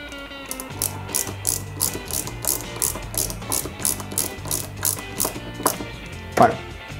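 A small screw being driven into a 1/8 scale Lotus Renault 97T model kit, giving a steady run of quick ratchet-like clicks over about seven seconds, close and moderate, with a soft tonal background beneath.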